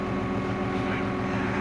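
Steady diesel engine rumble of a running 1995 New Holland 8340 tractor, loud and close with a constant low throbbing drone and no voices.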